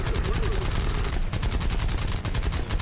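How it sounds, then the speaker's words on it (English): Aircraft rifle rounds and cannons fire in War Thunder from a Japanese plane, heard as loud, rapid bursts of automatic fire with steady rhythmic pulses over an engine drone. "Just spraying at him with my rifle rounds."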